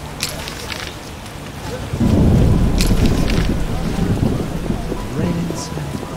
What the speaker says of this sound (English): Rains and pours.